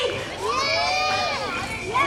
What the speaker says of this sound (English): Keep cheering for Peter.